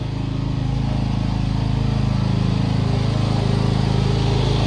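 Generator running steadily during a power outage on a rural farm, a loud continuous engine drone filling the whole stretch with no pauses and no talk.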